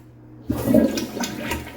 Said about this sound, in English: See, that's the short flush.